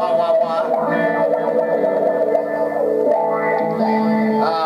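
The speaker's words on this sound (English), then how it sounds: "This is a wah-wah pedal here." Electric guitar played through a wah-wah pedal in a rig that also has a distortion box, giving sustained, sweeping tones whose vowel-like filter rises and falls, loud and continuous for several seconds with some effects coloring.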